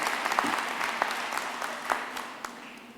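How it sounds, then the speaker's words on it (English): Sustained applause from a large audience at a university graduation ceremony in Qwaqwa, with dense, steady clapping and a few sharper claps standing out over the full stretch. "Another round of applause for our Vice-Chancellor."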